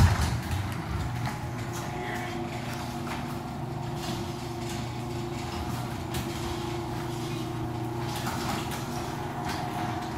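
A CHI Accents Woodtones 3216P insulated mahogany faux wood garage door rises with a steady mechanical rumble and rolling drone that carries evenly from start to finish, with a few faint rattles and no talking.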